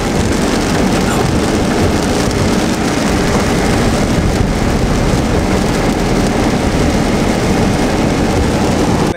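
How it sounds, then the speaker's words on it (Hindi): Heavy rain falls on a car during a road trip out of Bharatpur, a dense, steady roar of drumming drops with no let-up, loud and close throughout. "भरतपुर से निकलते ही बरसात ने अच्छे से स्वागत कर दिया है"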